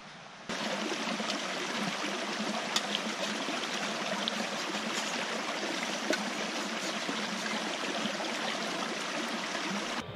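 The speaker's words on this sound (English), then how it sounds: "a river that's flowing over there to get water" A river flows in Sarek National Park's wilderness, a steady rushing and trickling of water heard alone and fairly close, continuous and even throughout.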